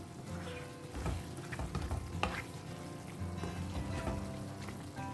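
Goan-style squid chilli fries in a pan and sizzles continuously as it is stirred with chopped coriander, with close scraping and clattering strokes over the constant crackle.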